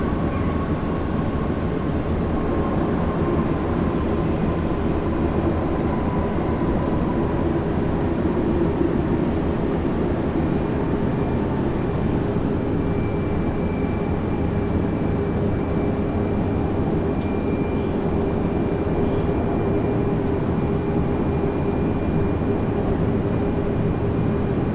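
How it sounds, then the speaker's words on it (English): An Emirates Airbus A380 on its Dubai arrival at Brisbane International Airport gives a steady, loud, broadband rumble with a faint engine whine, holding fairly constant throughout with no voices. "welcome Emirates A380."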